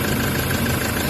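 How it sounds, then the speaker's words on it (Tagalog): A Toyota Hiace engine with a check-engine fault and a suspected EGR sensor problem idles roughly, a steady close rumble with strong vibration and a faint knocking texture that runs unbroken and alone. "umaandar yung makina"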